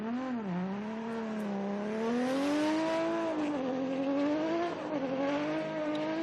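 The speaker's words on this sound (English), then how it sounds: "The second run through for the 18 car there, Adam Davies." Drift car at an international drift challenge, its engine holding a loud sustained wail that rises and falls as the throttle is worked through the run, with faint tire noise and no talk.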